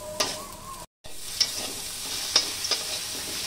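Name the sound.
stirring green peas frying in oil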